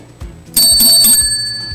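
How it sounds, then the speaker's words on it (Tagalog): A timer bell rings sharply at a mayoral candidates' forum, a couple of bright metallic dings with a sustained ringing tone that lingers, loud and close, with no voices. "2 bell dings mean there are only 10 seconds left."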